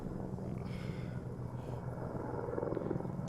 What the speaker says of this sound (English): they're bringing in a chopper too